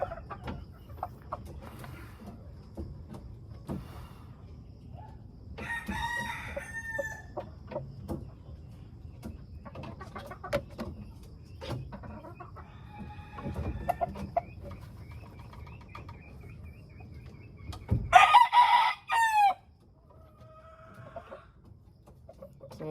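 A black hatch broodstag rooster clucking and crowing, with one loud crow near the end, over faint farmyard background noise.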